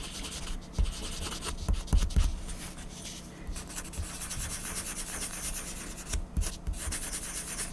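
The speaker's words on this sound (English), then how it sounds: "I have to sand those off." Sanding a Star Trek officer model figure by hand, a steady close abrasive rubbing with short scratchy strokes and a few louder scrapes, no talking.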